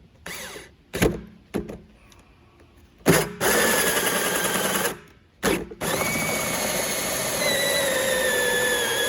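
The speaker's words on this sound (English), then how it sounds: "So I'm gonna drill a hole here and put it right there." Power drill boring a hole through a 55-gallon drum for a biogas digester gas outlet, starting with short bursts then a sustained loud whining run with rising pitch, close by, no talking.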